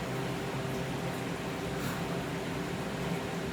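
An air cooler runs in the background of an indoor room, giving off a constant, moderately loud whirring hum with a steady tone and no change in level. No one speaks.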